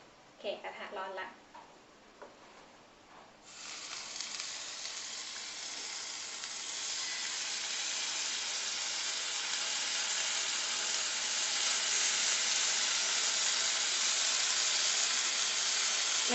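Pork grilling in a hot pan with just a little oil sizzles loudly and steadily, the hiss building after a few seconds and holding strong throughout, with a brief voice near the start.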